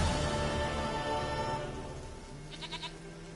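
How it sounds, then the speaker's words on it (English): A goat in The Witcher 3 Wild Hunt gives a short burst of bleats near the end, heard over a steady bed of game music and ambience. "Come on, you stupid goat."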